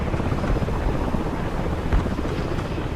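Rotor thump and turbine drone of an AH-60 attack helicopter in a combat video game, a steady close whir with a continuous broadband rumble and no voices.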